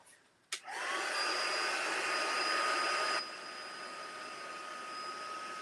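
A hair dryer drying paint on a canvas clicks on and roars at a steady high whine, then drops to a softer setting partway through and keeps blowing continuously, close and alone.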